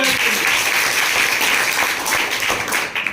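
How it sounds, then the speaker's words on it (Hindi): A classroom audience at a science quiz competition claps loudly and steadily for a correct answer, a dense sustained round of applause that tapers slightly at the end. "ताली बजाओ"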